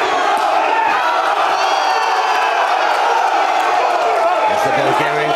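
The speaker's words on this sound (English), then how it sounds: "As the Bulgarian crowd go crazy." A Bulgarian crowd roars and cheers for their fighter at a kickboxing match in Manchester, a loud, sustained wall of shouting and whooping that continues throughout.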